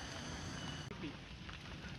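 Steady rain hisses on Mount Sanggabuana, a dense, even wash of drops close around, with faint voices murmuring beneath it.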